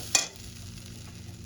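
A spoon scrapes once through masala spice paste frying in a pan for a catla fish and potato curry. A soft low sizzle continues steadily afterward, close and quiet.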